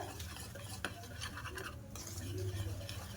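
A spoon stirs a semolina batter in a bowl, a soft continuous scraping and swishing, close but quiet with a faint background hum.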